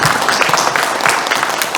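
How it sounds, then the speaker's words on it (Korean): An audience applauds at a book launch and talk show, a dense, even wash of many hands clapping nearby that carries on at a steady level for the whole stretch. "박수 한번 보내주시죠."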